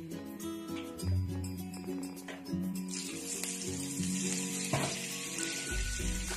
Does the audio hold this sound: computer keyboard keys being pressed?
no